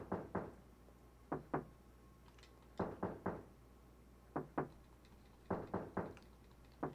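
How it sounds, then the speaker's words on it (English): Knocks on a stall door in Silent Hill 3 come in short clusters of two or three sharp raps, spaced by pauses across the stretch, set against a low steady hum with no talking. "She knocks. Why would you? Something knocked back."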